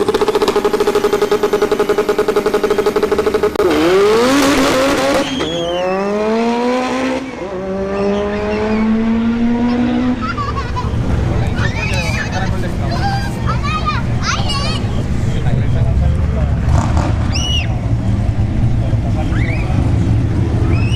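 Drag racing cars at ShowTime Dragstrip during a test-and-tune session, engines revving with rising pitch sweeps before a loud sustained roar and crowd chatter, fairly close and steady.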